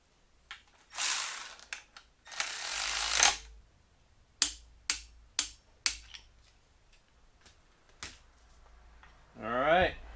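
A hand ratchet clicks in quick bursts while torquing the cam gear retaining bolt on a Fox Body shortblock engine, with several sharp separate clicks close up, followed by a brief spoken word.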